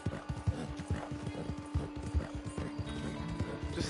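Galloping horse hooves in the Red Dead Redemption 2 video game beat out a quick, steady clip-clop rhythm, loud and close throughout with no voices.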